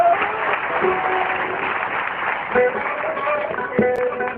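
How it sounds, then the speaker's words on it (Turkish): An audience at a folk poets' contest bursts into dense, steady applause, with a few sharper claps and a voice briefly rising through the crowd noise. "Alkışlayın bakalım"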